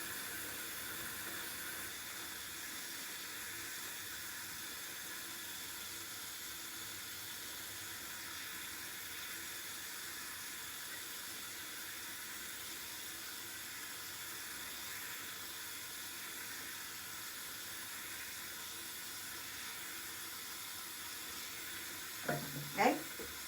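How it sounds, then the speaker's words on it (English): Tap water runs steadily at close range while a synthetic wig is rinsed under it, a continuous even hiss with a brief voice near the end. "You want to run the water until the water runs clear."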